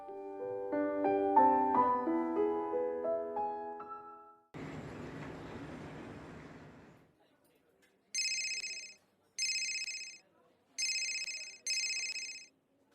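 A phone rings in short, bright electronic bursts, four repeated pulses in two pairs near the end, coming after a stretch of music and a noisy swish.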